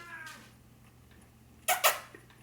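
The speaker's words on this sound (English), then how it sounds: "That's my cat." A pet cat indoors gives two short, loud meows in quick succession, close by, over a quiet room hum.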